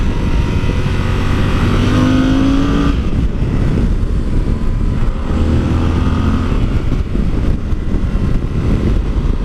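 A Yamaha Super Ténéré motorcycle engine revving loudly up and down, the pitch climbing and dropping close by, with constant road and wind roar underneath.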